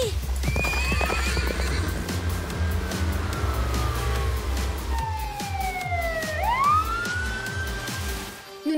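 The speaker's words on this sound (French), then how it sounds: "Je m'occupe du cheval." Cartoon horse hooves clip-clop in a steady, loud rhythm with a whinny, running under music and a siren-like swooping tone, no talk.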